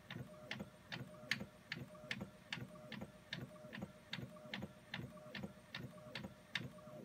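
A home inkjet printer prints an image onto deli paper, producing a steady, regular mechanical rhythm of whirring carriage passes and ticking clicks, repeating evenly and quietly with no talk.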